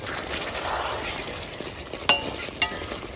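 Ghee goes into a pan of stuffed pointed gourd with paneer filling, giving a soft continuous sizzle with a couple of sharp clinks of a utensil near the end.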